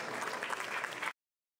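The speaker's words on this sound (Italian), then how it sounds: "ai quali farei subito immediatamente un applauso" A short burst of audience applause at an art biennale vernissage, dense clapping from a gathered crowd that is quiet and distant, cutting off abruptly after about a second.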